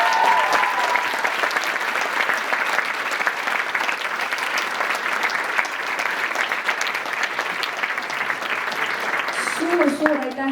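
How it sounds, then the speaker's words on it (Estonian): Sustained applause from a crowd at a folk dance concert, dense steady clapping throughout, with a few brief voices and whistles rising near the end. "Suur aplaus neile!"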